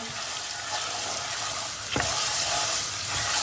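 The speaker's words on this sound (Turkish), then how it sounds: "Salçamızı da iyi kavuracağız." A spoonful of tomato paste fries with toasted flour in a pot for ezogelin soup, producing an even close sizzle with a sharp spoon scrape midway and steady bubbling crackle after.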